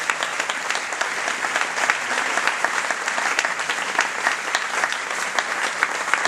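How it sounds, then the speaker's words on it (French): An audience at a charity show claps continuously and loudly as a bass player comes on stage, a thick, even burst of applause filling the room with no voices over it. "je vous demande d'applaudir Laurent, qui va me rejoindre et qui va jouer"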